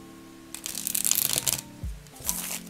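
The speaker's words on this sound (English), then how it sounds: "Let me try to shuffle it for you before I leave. Let's see how it shuffles." Mini tarot cards are riffled and shuffled in quick fluttering bursts, a couple of soft taps and thumps between them, close up with no talking.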